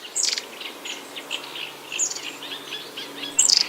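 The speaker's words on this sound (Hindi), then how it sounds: "ची ची, तभी एक चंचल चिड़िया चहकी।" A lively small bird chirps in short, bright bursts: a cluster of quick tweets at the start, another near the middle and a louder burst at the end, with soft twittering between and no voices.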